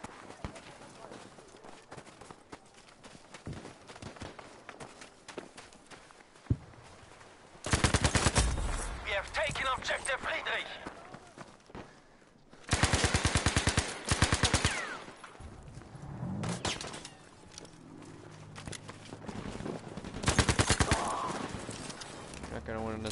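Submachine gun fire rattles in an online shooter video game, with several loud rapid bursts spread across the clip amid quieter game noise and scattered clicks.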